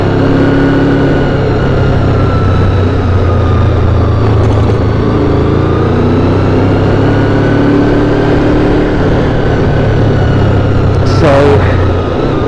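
Honda VFR motorcycle engine running continuously at low speed, a steady low rumble with slight surging as the ride jerks on and off, plus a brief mechanical rattle near the end.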